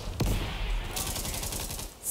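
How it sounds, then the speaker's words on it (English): Rapid automatic machine gun fire in Battlefield V, a dense run of evenly spaced close cracks after an initial heavy shot, loud and steady with no speech over it. "I do like machine guns."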